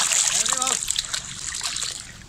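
Water splashes and trickles as a man swims in a village pond, a steady wash of splashing close by under children's voices and talk.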